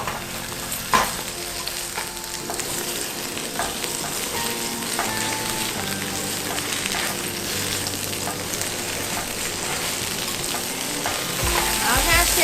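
Sliced loofah and sakura shrimp pan-fry in a vegetarian home kitchen, giving a loud, continuous sizzle with scattered utensil taps and stirring scrapes throughout.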